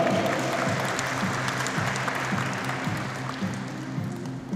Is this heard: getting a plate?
no